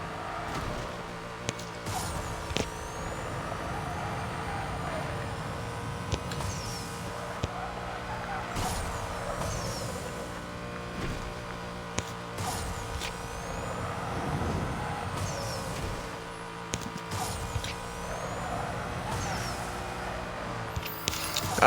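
Race cars in the mobile racing game Need for Speed No Limits roar with a continuous engine drone, shifting pitch and tyre screech while drifting, mixed with game effects and occasional sharp clicks.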